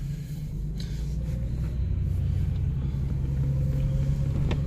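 A 1992 Toyota Supra cruises along, its engine holding a steady low rumble with a constant hum for the whole stretch, moderately loud and with no talking.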